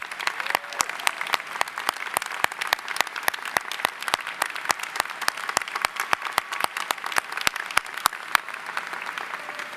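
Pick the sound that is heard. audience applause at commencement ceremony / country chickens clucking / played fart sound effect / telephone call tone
audience applause at commencement ceremony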